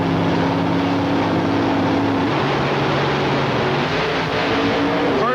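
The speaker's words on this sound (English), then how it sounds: "This could be a great drag race." Drag race cars roar loudly at the start of a 1996 IHRA World Nationals run in Norwalk, Ohio, one a new Monte Carlo, their engines holding steady tones and then shifting upward as they launch side by side.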